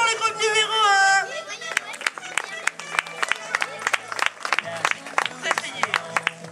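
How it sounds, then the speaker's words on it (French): Audience applause at a Christmas equestrian show, with scattered claps and crowd noise rising after a brief musical tone, continuing unevenly with chatter mixed in. "On applaudit bien fort le groupe numéro 1."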